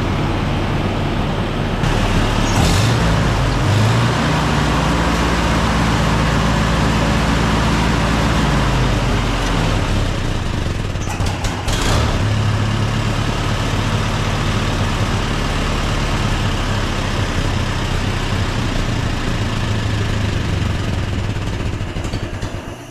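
An engine that has sat for years, bought sight unseen at auction, runs steadily but refuses to settle into a smooth idle. It is loud and close, with a rough low rumble and uneven pitch for the whole stretch and no voices.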